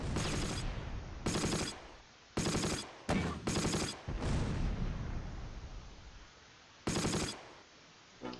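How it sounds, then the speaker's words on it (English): Mortar fire in the Close Combat: Last Stand Arnhem war game comes as a series of loud, crackling bursts of blasts separated by short gaps, each decaying into a rumbling tail. "How do we not hit anything with these mortars?"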